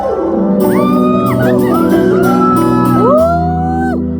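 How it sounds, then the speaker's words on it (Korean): An outdoor concert crowd at the Hwangnyongsa temple site in Gyeongju cheers loudly, with overlapping whoops and high shouts rising and falling over a dense roar. Faint clapping runs underneath. "박수 한번 주세요 여러분"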